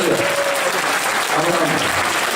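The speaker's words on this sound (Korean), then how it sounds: "박수 한번 주세요" Audience applause at a political talk concert fan meeting in Korea, honoring a party leader seated in the crowd; steady, dense clapping fills the whole stretch with faint voices mixed in underneath.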